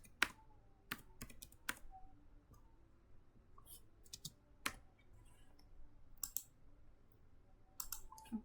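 Quiet, close typing on a computer keyboard: scattered sharp key clicks in uneven bursts with pauses between, a few harder strikes standing out like presses of the enter key.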